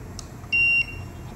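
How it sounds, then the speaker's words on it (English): Two short electronic beeps from an X7 fingerprint reader during user enrollment, the second held longer as the confirmation tone, clear and close against a quiet room. "Second, third, long beep will come."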